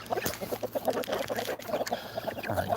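Backyard flock of adult hens and roosters mixed with young chicks, clucking and peeping in steady overlapping bursts nearby during evening chores, with a low steady hum underneath.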